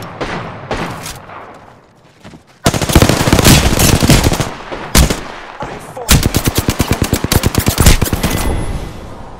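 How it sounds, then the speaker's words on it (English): Rapid automatic gunfire in the video game Apex Legends, loud sustained bursts of shots with brief gaps between volleys, dominating the mix with little speech. "I'm spotted, taking fire."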